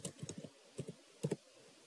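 Several quick computer keyboard keystrokes in three small clusters, close and quiet in an otherwise silent room.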